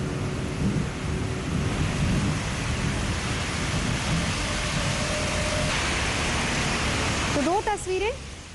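Heavy monsoon rain pours down in Delhi, a loud, steady broadband roar with low rumbling that may be thunder, continuous throughout, with a brief voice near the end.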